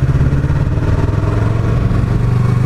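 A Yamaha R3 motorcycle engine idles close by with a steady, throbbing low burble and light mechanical clatter, loud and even throughout with no talking.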